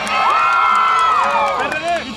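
An audience at a children's cosplay contest at an anime festival shouts and cheers loudly for a contestant, a sustained, high crowd roar with whoops that rises and then fades near the end.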